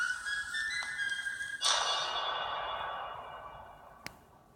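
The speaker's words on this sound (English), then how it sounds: "that old-timey whistling." Old-timey whistling from a game trailer: a clear whistled melody of sustained notes that then fades away, with a brief click near the end and no speech.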